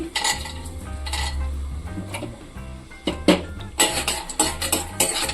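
Makhana fox nuts being roasted in ghee in a pan make rattling clinks and scraping stir sounds against the metal, growing busier toward the end, close by with no talking.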